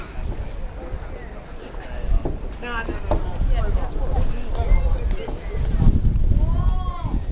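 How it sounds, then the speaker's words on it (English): Gusty wind buffets and rumbles across the microphone while people talk on a walk in Mandurah, with a thin whine rising near the end. "Bit windy today."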